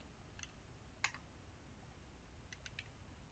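Scattered keystrokes on a computer keyboard: a few light taps, one sharper press, then a quick cluster of clicks, all quiet and close against a faint hiss.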